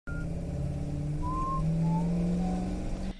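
A car engine hums steadily and pulls away in a drama scene, a continuous motor drone with faint whistling tones above it, cutting off abruptly at the end.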